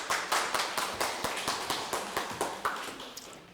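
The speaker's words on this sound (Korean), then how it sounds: "박수로 맞아주십시오." Audience at a law firm seminar on GDPR issues for biotech firms entering the EU claps to welcome the next speaker, a German lawyer; a steady run of separate claps, moderately near, with no talk.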